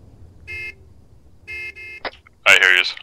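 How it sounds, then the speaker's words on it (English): Car horn honking in the military sim game Arma, three steady tonal honks in a broken rhythm, loud and close, followed by a burst of other sounds. "Start honking."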